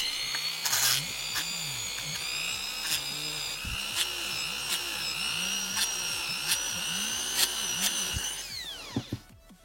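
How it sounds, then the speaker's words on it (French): A small power drill bores holes in a homemade printed circuit board held on a PLA support, its high whine steady with periodic pitch dips and clicks as each hole is drilled, then winding down at the end. "mon circuit imprimé maison était prêt, il manquait plus qu'à le percer."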